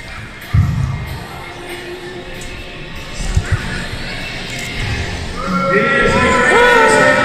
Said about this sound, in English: And the crowd goes mild.